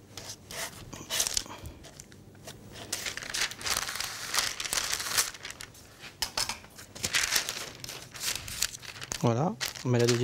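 Sheets of parchment paper crinkle and rustle near the mic as they are laid over pastry dough for apple crumble, with steady rough handling noise and talk over it.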